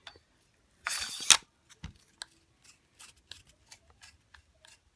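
The telescoping handle of a KUFA landing net is loosened with one brief loud grinding twist, followed by scattered faint clicks and ticks in an otherwise quiet room.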